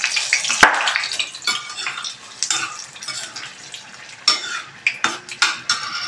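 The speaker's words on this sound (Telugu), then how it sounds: "ఇలా లైట్గా ఇలా కొంచెం కలర్ వచ్చే వరకు ఫ్రై అయితే సరిపోతాయి" Twelve dried red chillies frying lightly in a pan for chicken karam podi, with crackling sizzle broken by sharp scraping clinks of a spoon against the metal, close and moderately loud with no voices.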